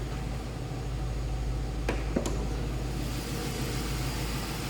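A stock 2002 Ford Thunderbird convertible engine idles with a mild, steady exhaust hum, close and fairly quiet, interrupted by two brief sharp knocks midway.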